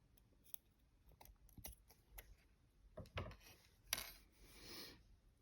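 Scissors snip through sewing thread while a handmade toy is being stitched, giving a few faint, brief close clicks and rustles with no talking.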